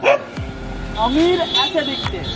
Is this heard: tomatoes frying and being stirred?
no